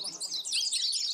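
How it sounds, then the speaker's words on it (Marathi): A brief burst of many small birds chirping at once, with dense, high, twittering calls that overlap continuously in a lively morning chorus. "पाखरांचा चिवचिवाटे"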